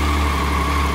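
Steady low idle from a close-up stock motorcycle with factory standard exhaust and an Aqua clutch, an even rumble with no revving for the full second.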